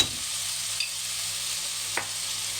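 A spoon stirs a tomato sauce seasoned with black pepper in a pan while it fries, a soft continuous sizzle with two faint clicks of the utensil, close and without talk.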